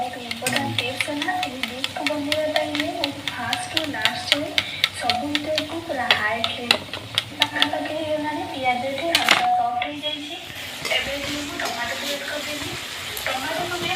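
Chopped onion fries in a pan for an egg and potato fry, a soft continuous sizzle broken by repeated scraping stirs of a utensil, fairly close, with some voices in the background.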